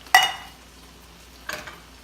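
Canned Rotel tomatoes being stirred into a sausage dip: two short scraping, wet stirring strokes about a second and a half apart, close and clear against near silence.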